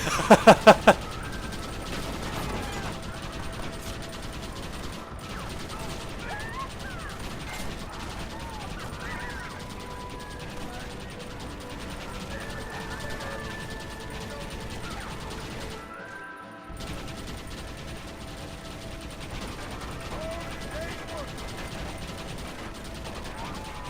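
Rapid, continuous fire from a mounted gun in the Red Dead Redemption video game, a dense mechanical clatter over steady game ambience, with a brief dropout near the end.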